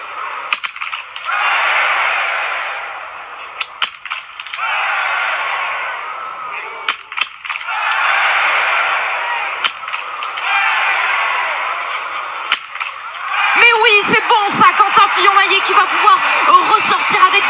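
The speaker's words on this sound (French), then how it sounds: "3 erreurs pour Bénédicte Doll qui va avoir 3 balles de pioche pour faire tomber ses cibles." Biathlon rifle shots at targets during the men's relay at the 2020 World Championships in Antholz-Anterselva, heard as sharp, scattered cracks under continuous commentary.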